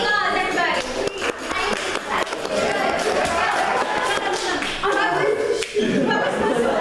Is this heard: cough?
no